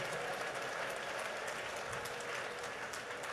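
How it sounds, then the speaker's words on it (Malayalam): Loud, dense clapping from a church convention crowd fills the space at a preacher's urging, steady and continuous without a break and with no voices rising above it. "ഉച്ചത്തിൽ നന്നായിട്ട് കൈയടിച്ച്"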